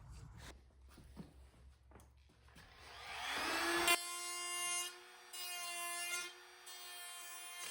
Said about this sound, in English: Level it right there and then router out this bit right here